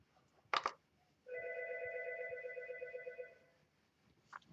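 An Algo 8180 ringer sounds one steady electronic ring at low volume for about two seconds, between brief clicks, in a quiet room.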